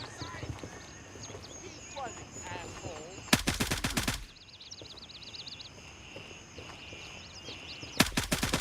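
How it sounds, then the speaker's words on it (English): Gunfire in Gray Zone Warfare comes in two loud, rapid automatic bursts, one about a second long and a shorter one near the end, from someone shooting at a window, between stretches of quieter game ambience and voices talking. "This guy just shooting in the window?"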